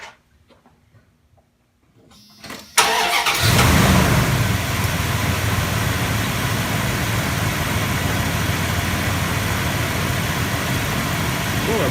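After a near-silent stretch and a few clicks, a car engine cranks briefly and catches after its battery was reconditioned with a 4 amp charger, then settles into a loud, steady idle.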